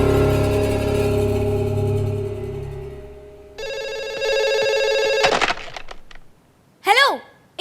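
A telephone rings in a sustained electronic tone, shifting pattern partway through, followed by brief clatter and a short warbling chirp.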